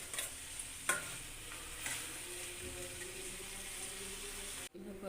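Fish ghantia curry with potato, cabbage and fish head simmers in a pan with spices and a little water, giving a steady close sizzle with a few brief stirring scrapes and a short break near the end.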